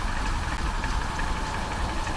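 A Vauxhall Insignia car engine idles steadily with an even mechanical hum and slight knocking vibration, close and alone, with no voices.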